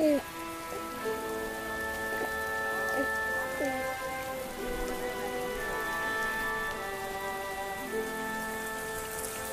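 Rain falling on a drought-stricken land in a dramatized historical story, a steady hiss of drops layered under sustained tonal music throughout.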